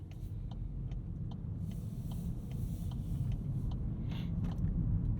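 A 2022 Volkswagen Golf R drives along steadily in comfort mode with an automatic gearbox, with a low, continuous engine rumble and road noise, heard from inside the cabin without any talking.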